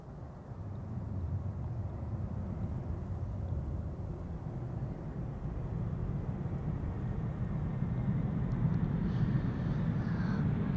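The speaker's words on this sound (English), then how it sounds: "777-200, KLM Flight 618 arriving from Boston." A KLM Boeing 777-200 airliner arriving from Boston makes a steady, distant broadband jet rumble that slowly swells louder across about eleven seconds.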